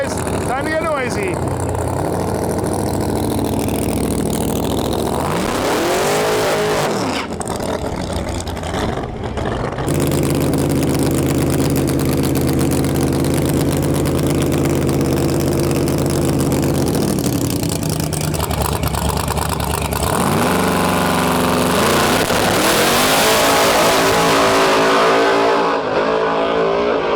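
Drag racing car at Interlake Dragway: loud, close engine roar with revving, sharp rises and drops in pitch as the car launches and pulls away, then a sustained full-throttle howl, with crowd noise and a voice talking over it.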